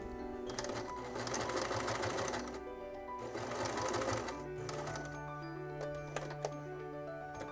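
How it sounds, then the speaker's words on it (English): A sewing machine stitches through shirt fabric near a serged collar trim, running in steady mechanical bursts with a whirring motor and rapid needle clatter, close and alone without talk. "And you can just sew right through on this"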